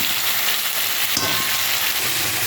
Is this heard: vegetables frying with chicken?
yes